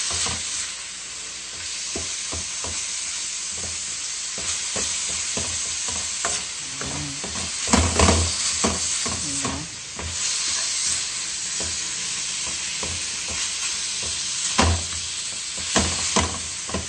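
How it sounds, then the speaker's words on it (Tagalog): A spoon stirs spaghetti sauce in a frying pan, partly frozen sauce that is still thawing. There is constant loud sizzling with repeated scraping and clattering strokes close up, and no voices. "Haluin na natin ng mabuti"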